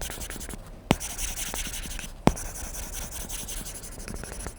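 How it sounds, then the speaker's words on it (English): Stylus writing on an iPad fitted with a Paperlike paper-texture screen protector, a steady close scratchy rubbing with two sharp taps as the tip strikes the glass. "It gives your writing and your drawing this natural friction, a bit like the resistance that you get from actual paper, and it sounds really different too."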